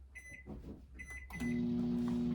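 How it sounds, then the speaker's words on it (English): A microwave oven heating butter: a few button beeps, then the oven starts with a steady loud hum that continues to the end. "We're going to end up heating up some butter in the microwave real quick."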